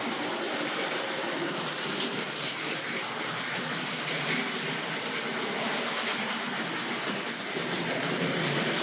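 RS.4 model goods train set running fast around a circle of track, a steady dense rattling rumble of small wheels on rails that stays even and fairly loud throughout, with no talking.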